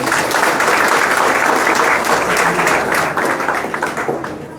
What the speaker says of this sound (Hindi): उनके लिए ताली बजाओ सबको।